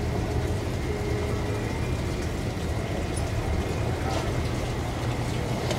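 A Vietnamese steel trawler's diesel engine runs continuously, a loud, steady low-pitched drone with a constant mechanical rumble and no talking over it.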